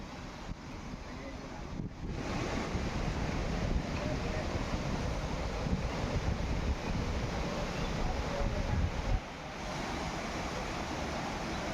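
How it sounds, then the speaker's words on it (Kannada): A waterfall at a serial shooting location gives a constant broadband rush of falling water, steady and fairly distant, with wind buffeting the microphone and no clear speech. "ಇದೇ ನೋಡಿ ಫಾಲ್ಸ್"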